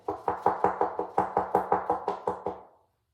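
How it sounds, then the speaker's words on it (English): Knocking on a door in a Halloween story, about fourteen sharp, evenly spaced raps in a quick steady rhythm, close and clear, then fading to silence. "And the cauldron was getting more empty when the knocking came."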